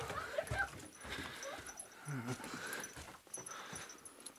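Dogs whimper softly and pant nearby in a closed room at a thermal bath in Spain, with scattered scuffling and a faint murmur of people in the background.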